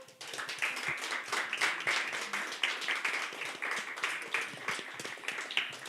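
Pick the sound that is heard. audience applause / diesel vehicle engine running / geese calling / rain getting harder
audience applause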